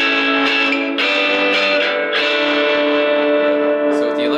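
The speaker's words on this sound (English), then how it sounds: "So with the electric guitar, you can now hear a little bit of distortion now" Sustained distorted electric guitar chords ringing out with a gritty, saturated tone and some reverb, played alone with a few fresh strums, on a Traveler Guitar Pro.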